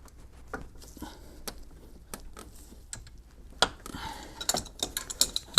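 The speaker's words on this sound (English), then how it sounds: "Let me try that other wrench." Wrench working a bolt on a BMW E46 engine during lifter replacement, a series of sparse close ratcheting clicks and metallic taps, growing denser and louder toward the end.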